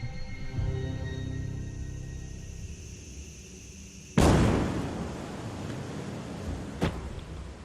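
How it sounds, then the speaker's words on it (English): A SpaceX Starship Booster 18 rocket explodes during a nitrogen pressure test. A sudden loud, broadband blast cuts through a steady mechanical hum and decays into a long rumbling roar, followed by a second sharp crack a few seconds later. "When we were pressing the nitrogen system, we had an explosion that took out the rocket"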